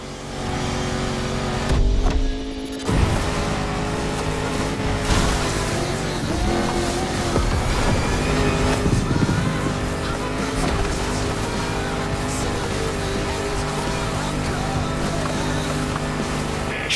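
A Land Rover Defender with a 400-horsepower engine in The Crew Motorfest racing game, its engine droning steadily and rising in revs, with a brief tire or impact burst early on, with no talk.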